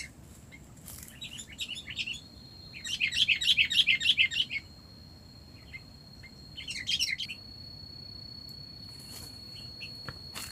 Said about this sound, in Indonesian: Ya burungnya teman-teman